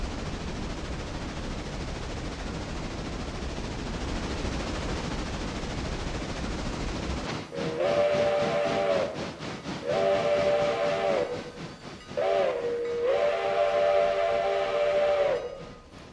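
Steam locomotive number 7 in the Railroader train game rolls in under a steady rumble, then sounds three loud, long whistle blasts with short gaps between them.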